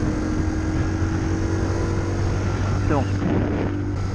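A 50cc Champ moped engine at full throttle, a steady buzzing drone that stays loud and even throughout, with someone speaking briefly over it near the end.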